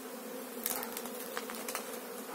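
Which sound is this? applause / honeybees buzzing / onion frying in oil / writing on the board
honeybees buzzing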